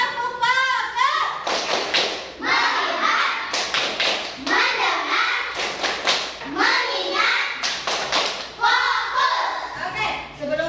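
Schoolchildren in a classroom run through the 'tepuk fokus' clapping chant, repeated clusters of crisp claps and desk thuds in a steady patterned rhythm alongside loud group chanting and children's voices.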